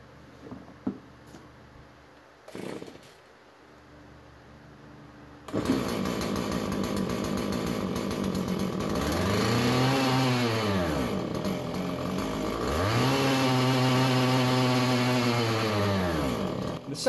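After a few faint clicks and a pull, a model 445 chainsaw fires up loudly nearby. It runs with rising and falling revs in two long surges, then cuts off abruptly at the end. No one speaks.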